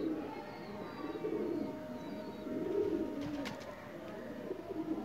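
A pet golden pigeon coos softly and close by in repeated low, rolling phrases, with a few faint background chirps and no talking.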